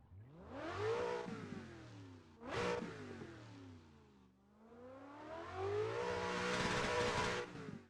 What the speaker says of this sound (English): It should just sound like a really cool V8 Corvette sound.